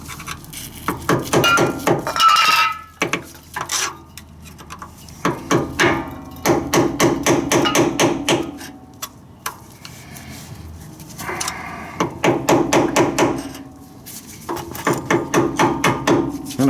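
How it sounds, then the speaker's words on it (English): Screwdriver tapped behind the output shaft seal of a Ford F150 4R70W transmission, giving bursts of rapid, sharp metallic clinks in repeated runs with brief pauses between them, close and loud. "I'm just going to start tapping this behind with a screwdriver"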